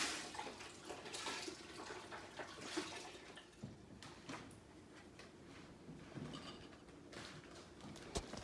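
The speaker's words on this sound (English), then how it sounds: "he's putting a whole bunch of unsalted beef stock in that pot" Unsalted beef stock pours into a big soup pot in a home kitchen, making a steady, fairly quiet splashing and gurgling stream that runs the whole time with small clinks along the way.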